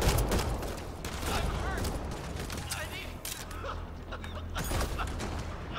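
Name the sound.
gunfire in Mass Effect Andromeda video game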